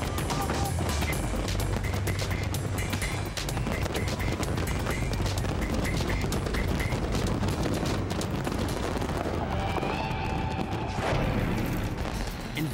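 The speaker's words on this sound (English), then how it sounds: "The shells are launched from barges on the lake" Continuous dense crackling and booming bursts of fireworks launched from barges on a lake, loud and sustained, with a crowd murmuring underneath and occasional whistling shells rising.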